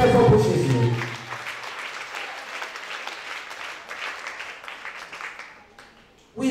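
A church congregation applauds and cheers loudly for Jesus at a testimony gathering, in a dense, sustained wash of clapping that swells after a brief shout at the start and fades slightly toward the end.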